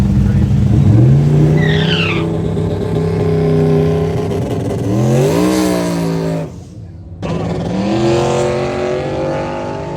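A car at a drift and drag racing event revs hard with rising and falling engine pitch, passing close and loud with tire squeal, broken by a brief cut before the engine roars again; voices talk faintly underneath.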